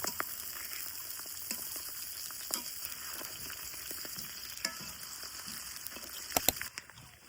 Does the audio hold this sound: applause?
no